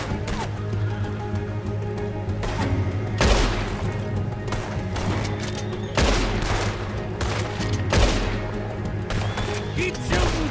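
Heavy gunfire in Red Dead Redemption 2 during a prison break, with rapid overlapping shots, sharp loud bursts and booming impacts recurring throughout over a steady game backdrop.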